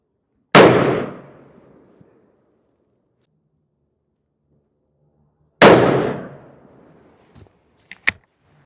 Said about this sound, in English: I want to keep shooting.